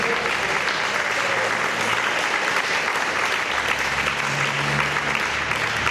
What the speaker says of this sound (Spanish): Alguien tiene que darle palmas a Jesús en esta tarde